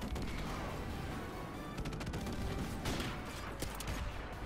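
Rapid gunfire from Modern Warfare Remastered, dense overlapping cracks and bursts at a steady, busy rhythm, fairly faint and continuous throughout a chaotic firefight.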